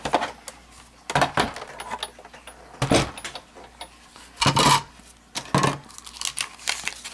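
A Big Shot die-cutting machine is cranked to cut paper, giving several loud, crunchy bursts at irregular intervals with quieter rustling and clicks in between.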